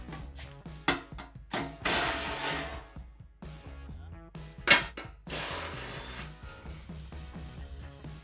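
Bolts coming off the front skid plate of a second-generation Toyota Tacoma, worked with a ratchet: close, uneven bursts of clicking and rasping ratchet turns with short pauses between them, no talk over the sound.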